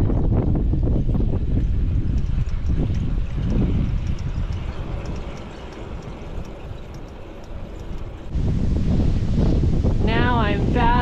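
Strong wind buffets the microphone while riding a bike along a canal road on the Florida Trail, a loud continuous roar that eases briefly in the middle before surging again.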